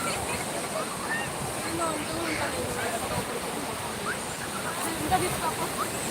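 Sea waves wash steadily onto Rishikonda beach in a constant broadband rush of surf, with a slight swell near the end.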